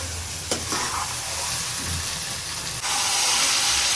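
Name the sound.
sautéing potatoes, onions and tomatoes for Sindhi biryani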